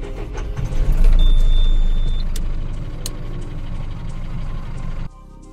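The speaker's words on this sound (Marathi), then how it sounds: "चला लगेच गाडी लावून घेऊया।" A truck idles and rumbles close by as it is maneuvered into a loading spot, a steady low engine drone with a brief high hiss partway through, before the sound drops away abruptly near the end.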